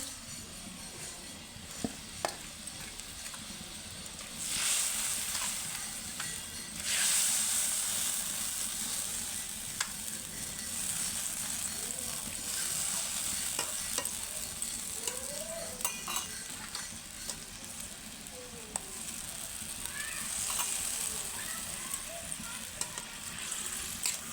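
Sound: fish curry boiling in pan

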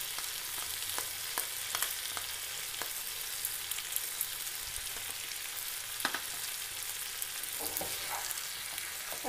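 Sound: stirring chicken curry with tomato ketchup in pan

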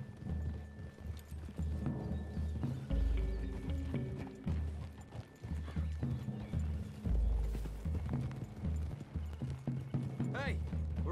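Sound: horses galloping through trees in Red Dead Redemption 2 video game

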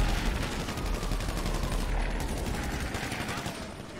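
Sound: gunfire from guns in the video game GTA 5

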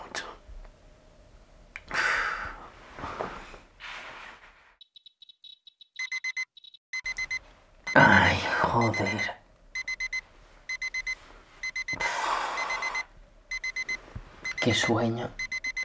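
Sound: alarm clock ringing

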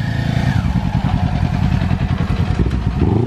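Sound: Kawasaki Ninja motorcycle engine revving during race

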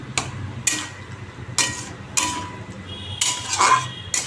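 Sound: cooking pot of bottle gourd taken off the stove

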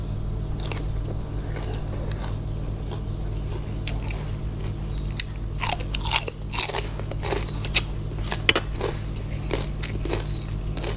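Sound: eating and chewing spicy pounded banana salad

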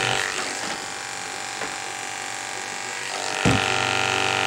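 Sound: electric clippers trimming a miniature schnauzer's beard

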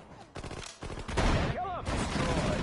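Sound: gunfire in a war video game battle

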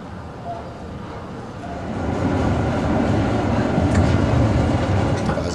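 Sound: tram pulling into a stop, DÜWAG-built, Kassel

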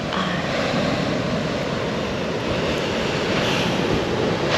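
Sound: ocean waves at sunset beach

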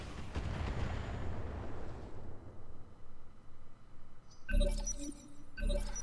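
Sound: heavy weapons fire on mechs in Roguetech (BattleTech) video game

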